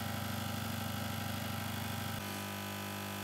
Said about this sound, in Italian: Ma adesso vediamo cosa succede con l'aria calda.